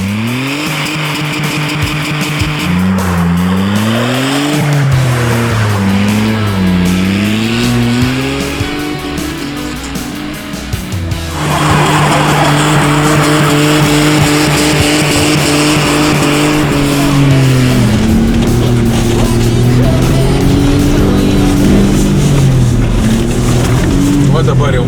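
A small motorcycle-engined car drives and slides with its engine revving up and down in loud wavering sweeps and tyres scrubbing. The engine rises sharply after a brief lull, and a voice talks over it.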